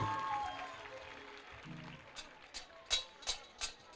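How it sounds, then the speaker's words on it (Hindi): At a Khatu Shyam devotional bhajan gathering, a handful of sharp, evenly spaced claps ring out after a quiet stretch, fairly faint and rhythmic rather than a full burst of applause. "ताली बजा दो दोबारा से।"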